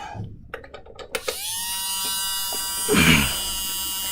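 A small high-pitched homemade rotary tool with a Dremel bit whines steadily while drilling a hole, starting after a few brief taps and clicks, with a slight rise in pitch and load midway through.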